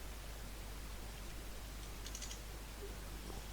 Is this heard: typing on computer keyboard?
yes